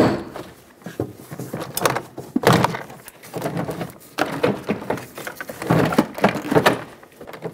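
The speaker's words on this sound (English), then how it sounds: "Now you should be able to pry out on this door panel. It's got some plastic clips holding it on." Repeated sharp snaps and cracks of plastic clips popping free as a door panel is pried off a 2007–2014 Chevrolet Silverado 2500HD, with scraping and creaking of the panel between them, loud and close.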